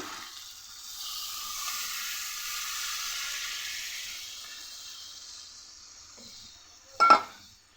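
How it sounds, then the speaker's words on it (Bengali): Sautéed chicken with potato sizzles in a pan after water is poured in, a broad hiss that swells and then slowly fades, ending with a sharp metallic clink near the close. "এবার এর মধ্যে দিয়ে দেব পরিমাণ মতো জল"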